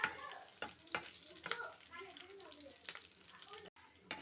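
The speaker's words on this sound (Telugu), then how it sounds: "ఇవి కూడా వేగే వరకు కొంచెం ఇలా వేయించుకోవాలి." Green and dried red chillies frying in oil in a pan for a fenugreek leaf and tomato chutney, a soft continuous sizzle punctuated by sharp clicks of a stirring spoon against the pan.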